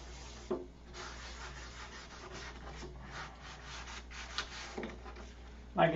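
Someone hand-sands clear coat on an airplane, making a soft, steady rubbing and scraping in uneven strokes. The sound is faint and close, with a few sharper knocks.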